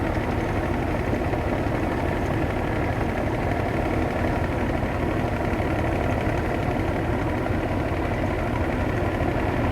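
A cargo ship's engine drones steadily while the vessel slowly overtakes another ship on the run from Chattogram to Dhaka, a constant close low rumble and vibration with no speech.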